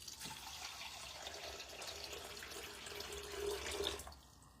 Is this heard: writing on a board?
no